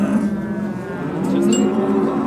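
Cows with calves at a livestock market low repeatedly in long, loud moos close by, with faint market noise in the background and no talking.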